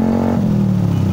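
A brand-new Yamaha Sniper motorcycle with a screen-type exhaust pipe revs up close by, its engine note holding a loud, steady low growl that dips slightly in pitch partway through.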